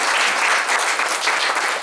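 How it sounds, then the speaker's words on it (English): Audience at an inaugural ceremony gives a full, loud burst of dense applause that holds steady throughout. "A big round of applause for all of us present."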